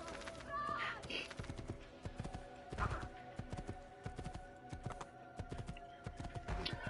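Horse hooves in Assassin's Creed 2 clatter in a quick, uneven run of clip-clops, moderately near and somewhat faint, over a steady game background with a few sharper thuds.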